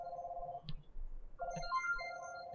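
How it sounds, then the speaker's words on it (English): An incoming phone call rings with a quiet electronic ringtone: sustained melodic tones that pause briefly, then resume with a shifting pattern, and no voices. "Hold on, get a phone call."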